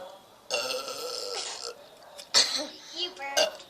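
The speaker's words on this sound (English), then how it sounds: "You burped." A burp after drinking Coca-Cola in a burping challenge, a long drawn-out croaking belch lasting over a second, followed by shorter voiced bursts and a kid's voice nearby.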